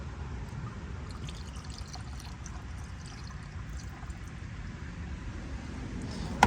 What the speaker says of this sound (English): We dump it with the rest of the antifreeze.